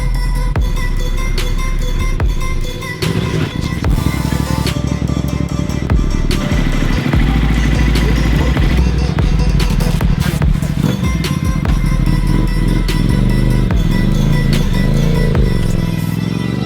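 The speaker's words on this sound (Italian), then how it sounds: "Jody è stato il primo ad entrare con la mia moto" A motorcycle rides onto the track with a loud, continuous engine note that revs and shifts in pitch, mixed with clatter and rattling, and voices are heard faintly underneath.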